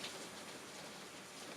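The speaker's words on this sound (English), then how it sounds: "Wow, that rain is so distracting." Rain falls as a faint, even patter with a soft hiss, continuous throughout the short stretch.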